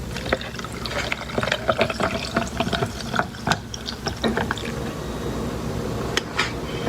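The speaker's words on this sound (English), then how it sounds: "So I filled my cup up with ice. I'm going to pour over my coffee." Coffee is poured over a cup filled with ice, making a steady liquid pour with crackling, clinking ice. The sound is close and continuous, with no talking.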